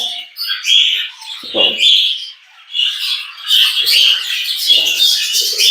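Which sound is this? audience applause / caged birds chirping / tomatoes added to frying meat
caged birds chirping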